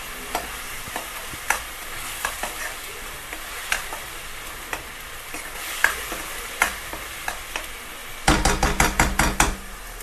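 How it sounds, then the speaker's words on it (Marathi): Spice masala roasts in a pan for a soybean vegetable dish, with a spoon scraping and stirring it in steady, repeated strokes over a soft sizzle. A quick flurry of stirring closes the clip. "हे सगळा मसाला मस्त आपण छान असा लालसर भाजून घ्यायचा आहे."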